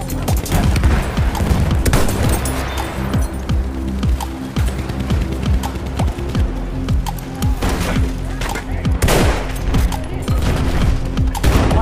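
Machine gun fire in Battlefield 1 rattles through a loud, chaotic battle, with rapid bursts of shots layered over booms and thuds from nearby and distant combat, continuous for the whole stretch.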